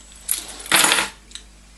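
Car keys handled and jingled, a few short metallic clinks and a longer rattle, close by and fairly quiet with no talking.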